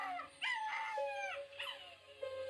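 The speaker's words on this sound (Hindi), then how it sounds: "बच्ची के मुंह से कपड़ा हटाते ही कुत्तों ने रोना शुरू कर दिया और वहां से भाग गए।" Several dogs howl and wail in a mournful chorus at night, long rising and falling cries that overlap, moderately loud, with no voices present.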